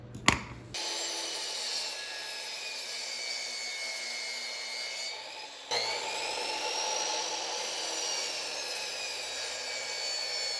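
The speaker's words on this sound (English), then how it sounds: "And we'll go cut these corners off at the miter saw." A miter saw in a woodworking shop spins up with a sharp start, then holds a steady high whine, briefly dips and rises again as it cuts the corners off a wooden birdhouse kit board.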